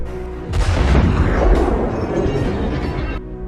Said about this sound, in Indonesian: Tiba-tiba, mobil itu pun meledak.